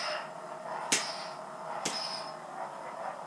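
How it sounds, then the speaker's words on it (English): A toy lightsaber hums steadily, broken by two sharp crackling clash bursts about a second apart, quiet overall and without talk. "And it does have a clash."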